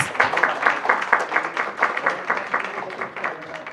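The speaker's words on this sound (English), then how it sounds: "a round of applause for our panelists" An audience at a patient summit in Delhi, India claps together in a short burst of applause for panelists, dense and fairly close, with some voices mixed in.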